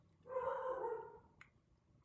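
A single dog bark or drawn-out yelp sounds indoors at a moderate distance and fairly quietly, followed by a brief faint click and a short sharp tap near the end.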